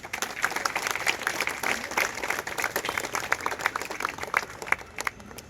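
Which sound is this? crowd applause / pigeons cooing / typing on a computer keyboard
crowd applause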